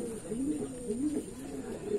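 Taiwan gold line racing pigeons coo in a loft, a low, rolling, repeated warble close by and fairly quiet, with faint background hiss and no clear talk.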